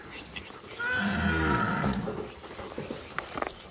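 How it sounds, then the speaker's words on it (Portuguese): Cattle moo loudly and close by as a herd of dairy cows arrives on a rural farm, with one long drawn-out low call followed by quieter lowing and shuffling. "a vacada tá chegando ali"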